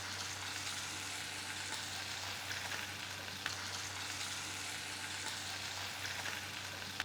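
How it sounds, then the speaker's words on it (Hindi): Chicken pieces shallow frying in medium-hot oil over a low to medium flame, giving a steady, dense sizzle and crackle throughout with no talking. "चिकन के पीसेस डालकर शैलो फ्राई करेंगे।"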